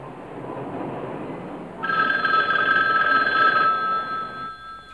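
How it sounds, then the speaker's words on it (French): A shrill hotel telephone rings steadily for several seconds, its bright electronic tone entering over a low background rumble and continuing before cutting off near the end. "J'aimerais bien savoir pourquoi les téléphones dans les hôtels sont toujours aussi stridents"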